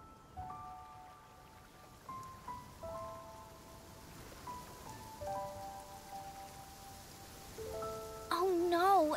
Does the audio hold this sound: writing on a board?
no